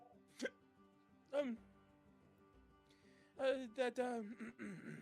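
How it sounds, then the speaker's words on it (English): Short, sharp hiccups from a person, several separate gasping bursts spaced irregularly, close and fairly loud, mixed with bits of voiced sound. "these hiccups suck"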